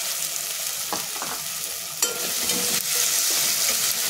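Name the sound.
frying onion, tomato and corn in a pan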